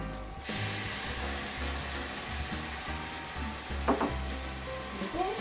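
Sauce for chicken mayo rice poured into a hot pan, a steady loud sizzle and frying hiss running throughout, with a few brief stirring clatters near the end.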